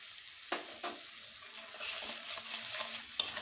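Ground spices with salt, turmeric and Kashmiri chili powder frying and being stirred in a pan for egg curry, a soft steady sizzle with a few sharp spoon scrapes, close and moderately quiet.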